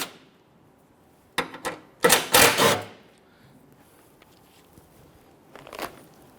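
A ratchet loosening skid plate bolts under a 2006-2010 Hummer H3, a few short clicking bursts followed by a louder, longer ratcheting run, then quiet with a faint click near the end.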